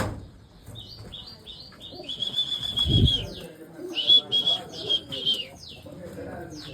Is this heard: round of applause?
no